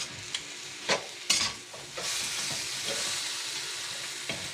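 Pork leg pochero being stirred in a pot, a few sharp scraping and clanking strokes of a utensil followed by a continuous bubbling sizzle, close and moderately loud, no voices.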